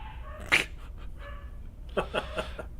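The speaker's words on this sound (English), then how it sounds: "I don't know if you can hear the dogs barking or not" Dogs bark in the distance, a sharp bark followed by a short burst of several more, faint against a steady background hum.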